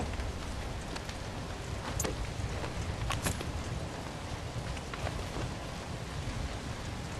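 A heavy thunderstorm pours down in a zombie video game, with a steady, close wash of rain hiss throughout and a couple of brief sharp cracks in the middle, with no one speaking.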